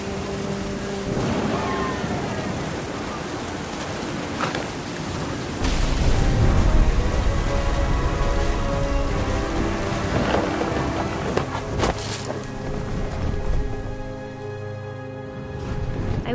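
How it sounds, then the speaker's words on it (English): Rain and rolling thunder in the video game What Remains of Edith Finch, a steady dense hiss of rainfall with deep thunder swelling midway and fading, loud and enveloping, no speech. "The thunder sounded much too close and full of angry power."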